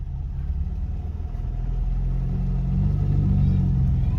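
A car drives along with a steady low engine rumble and road drone that swells slightly toward the end, continuous throughout, with faint voices underneath.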